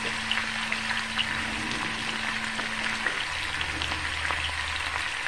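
Potatoes and onions frying in a pan for old-fashioned fried potatoes make a dense, even crackle and hiss, steady and close throughout with faint scattered pops and a low background hum.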